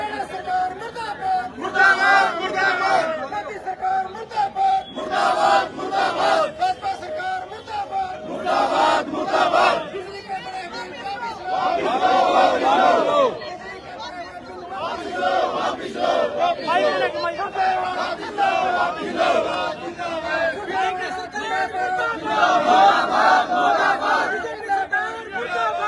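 A crowd of Congress party workers chants slogans in unison at a street protest against the BJP, with loud rhythmic shouted phrases repeating over a continuous roar of voices.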